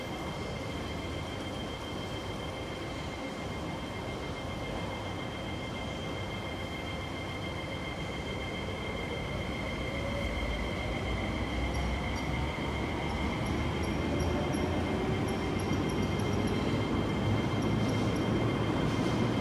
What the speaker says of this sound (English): the train actually parked here for a while to set up the system to just send it back to the depot